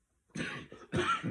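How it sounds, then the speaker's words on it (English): A single short, throaty woodworker's cough in two bursts, close and fairly loud, after a brief silence. "Woodworker's cough."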